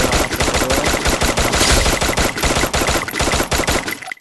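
Rapid automatic gunfire in a shooter video game, dense continuous bursts of loud close shots as a teammate lays down cover fire, with no talk.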